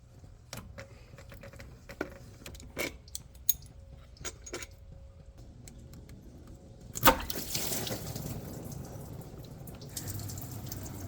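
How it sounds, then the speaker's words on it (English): Engine coolant drains from the thermostat housing of a DD15 truck engine, a few scattered ticks and drips giving way to a sudden steady gushing rush of liquid that keeps pouring in the second half. "I'm going to let that drip and drain until it's done doing whatever it needs to do."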